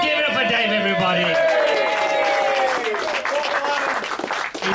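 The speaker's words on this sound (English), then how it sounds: "Give it up for Dave, everybody." A comedy crowd at a small pub festival applauds and cheers for the landlord Dave, with sustained clapping close by and whoops and voices rising over it.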